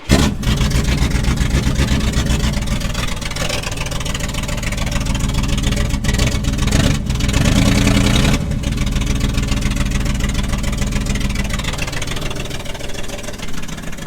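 A GM G-body car engine cranks and settles into a steady running idle, a loud continuous low rumble with a brief dip partway through, heard close up with no talk.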